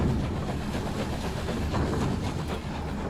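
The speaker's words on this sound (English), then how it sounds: "Sounds like a train. It's going choo-choo." A train chugs in the video game Night in the Woods, a dense, continuous rumble and clatter at a constant loud level with no voices over it.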